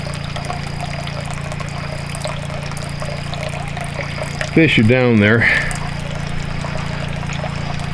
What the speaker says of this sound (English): I buried a pipe underground. It comes up right here. You can hear it trickling.